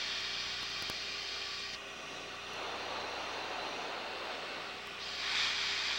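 An F-16 fighter jet engine roars steadily as a broad, constant drone, heard close and loud from inside the aircraft with slight shifts in tone.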